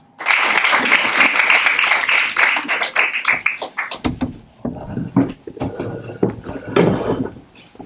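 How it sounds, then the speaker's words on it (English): Audience at a local short film showcase applauding the arriving judges, a burst of loud close clapping for about four seconds, then thinning into sporadic claps and taps. "if we can give them a big round of applause"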